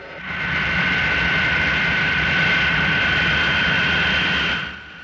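A jet airliner's engines roar steadily as the plane taxis away from an airport terminal, a loud sustained whine with a bright tonal edge that swells in, holds, then cuts off near the end, with no talking.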